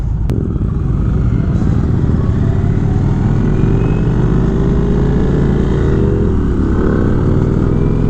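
A 2019 Indian Springfield Dark Horse motorcycle on the road, its engine rumbling loud and close under steady wind roar, with the pitch rising gradually as it pulls along a stretch.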